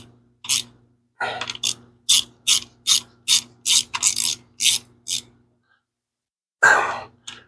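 A ratchet tightens a half-inch bolt on a V8 cam gear, giving about a dozen close, crisp clicking strokes in a steady rhythm, a pause, then one final burst.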